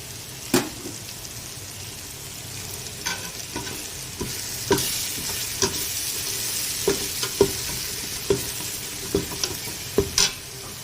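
Steady sizzling of chili powder, coriander powder and turmeric frying in a pan for mushroom biryani, with a series of sharp clinks and scrapes as a spoon stirs them, fairly close and without talk.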